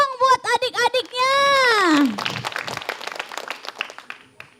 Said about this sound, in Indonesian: Tepuk tangan dulu dong buat adik-adiknya.